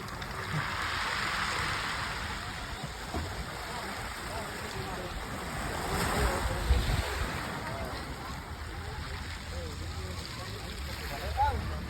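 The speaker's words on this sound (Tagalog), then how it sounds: "Ay, lakas ng alon." Strong waves surge and splash steadily with wind buffeting the microphone, rising in a few louder swells over a constant rushing background.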